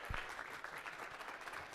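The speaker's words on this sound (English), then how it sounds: "give them a round of applause, right?" Applause from an audience after a presentation, a short burst of clapping at modest level that stays fairly even and somewhat distant for under two seconds.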